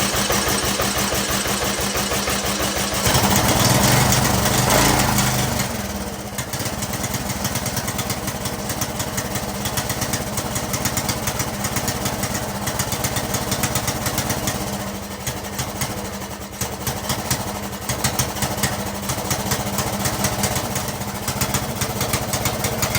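A small engine, recently repaired after revving too high, starts and runs steadily at a close, loud level, its droning note dipping briefly before settling into an even idle.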